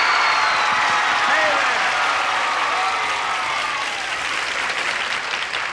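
Studio audience bursts into sustained applause to welcome the stars of a show, a dense wash of clapping that stays loud and slowly eases over several seconds.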